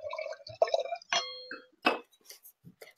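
Wine poured into a glass, short liquid splashes and glugging bursts with faint clinks, close and intermittent against near silence.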